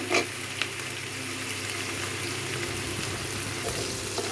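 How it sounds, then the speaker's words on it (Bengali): Prawns frying in a pan while a Bengali prawn curry with cucumber is made, giving a steady close sizzle with a few stirring clicks and no voices. "চিংড়ি মাছটা ভাজা হইতে একটু সময় লাগবে।"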